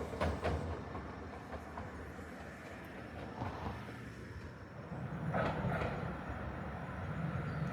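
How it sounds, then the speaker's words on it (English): A colorful Medetai train on Wakayama's Kada Line rumbles steadily over a small bridge, a continuous rolling clatter that swells toward the end with no voices. "we filmed the train going over our favourite little bridge"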